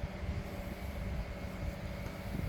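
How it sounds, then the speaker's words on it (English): HO scale model train running on track in a home layout in Phichit, Thailand, a faint steady rumble and rolling clatter of wheels, continuous and fairly quiet with no talk. "I like to back the trains up to hook up the carriages"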